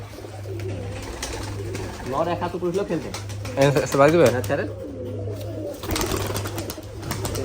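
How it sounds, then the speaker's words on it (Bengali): Pigeons coo steadily at a farm, their soft calls running under a man's close conversational speech throughout, with a constant low electrical hum beneath. "সেই ভাইয়ের বিখ্যাত সেই সিমি কবুতরের বাচ্চা উঠেছে"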